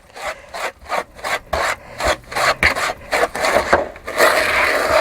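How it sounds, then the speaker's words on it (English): Wooden spoon rubbing and scraping a softened mixture around a bowl in a caravan kitchen, a steady run of rhythmic rasping strokes, close and fairly quiet, with no talking. "Now make sure I work it all in. So I use a wooden spoon to do this."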